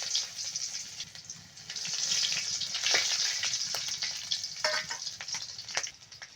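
Onions frying in oil with whole garam masala (cardamom, cinnamon, cloves and bay leaf) sizzle loudly, the hiss swelling and easing, with scattered clicks and scrapes from stirring.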